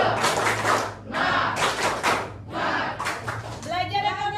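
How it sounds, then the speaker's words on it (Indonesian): An economics class performs a rhythmic spirit-clap chant, groups of loud clap bursts alternating with children shouting the cheer together, close and energetic, ending in a high voice. "Tepuk semangat ya"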